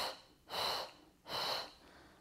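Two deep, slow inhalations taken during a pregnancy side-stretch exercise, each a close, airy rush of breath about a second long, separated by a brief pause, with no talking.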